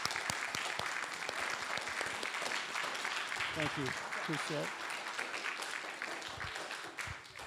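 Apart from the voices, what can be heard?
audience applause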